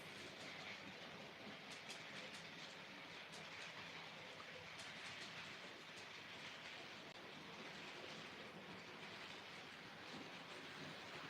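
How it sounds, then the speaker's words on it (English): A small Terrier locomotive runs on a model railway layout, a faint, steady rolling rumble with light rhythmic clicking of wheels over rail joints, continuous and distant-sounding. "It's a lovely little locomotive, that one."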